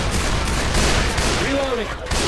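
Steady, loud gunfire from a powerful weapon in the zombie shooter Left 4 Dead 2 fills the clip, a dense continuous barrage mixed with game sounds throughout.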